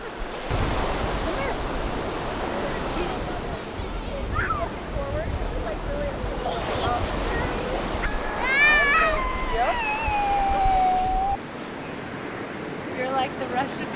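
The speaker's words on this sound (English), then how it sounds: "Like the rush of the ocean." Ocean surf rushes steadily at Pfeiffer Beach, California, a loud continuous roar with wind buffeting the microphone, while people talk faintly over it during a bridal photo shoot.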